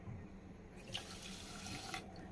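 Water runs steadily from a kitchen tap, a soft continuous splashing stream, as a cup of water is measured out for sugar syrup in a pan for khaja; faint and close, with no talking.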